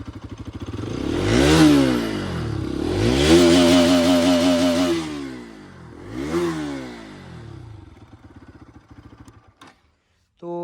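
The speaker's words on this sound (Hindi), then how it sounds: "तो अब मैं इसका एग्जॉस्ट साउंड आपको सुनाता हूँ। पहले आइडल पे सुनाता हूँ, तो ये है कुछ आइडल साउंड। अब रेव करके सुनाता हूँ।" The exhaust of a Bajaj Pulsar RS200 200cc motorcycle sounds loud and close as it is revved three times. Each rev rises and falls in a smooth sweep, then the engine settles back to a quieter idle.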